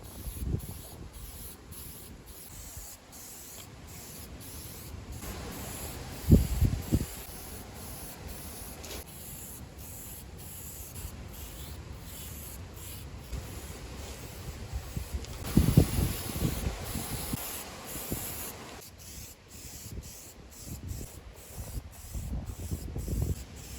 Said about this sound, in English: I'm going to spray this as I go along with the model